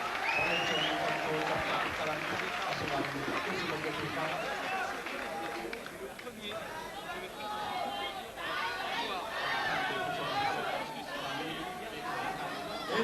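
A crowd at a Muay Thai bout between Saimai Chor Suananant and Mourad Sari claps and cheers at a steady, loud level throughout, with dense chatter and shouts mixed in.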